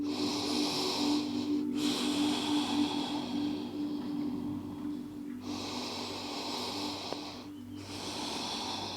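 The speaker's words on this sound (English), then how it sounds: "Take 2 deep breaths." Slow, deep breathing during a post-workout CrossFit stretch, with long audible inhales and exhales in a steady rhythm, close and fairly quiet, with no talking.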